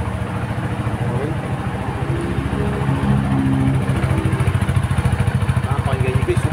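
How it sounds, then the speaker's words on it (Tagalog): A CFMoto SR250 Lite motorcycle engine idles close by with a quiet, steady exhaust from its elbow-style pipe. The note rises slightly midway while someone talks over it. "Nakapakinggan nyo guys, tahimik lang ng pipe nyo."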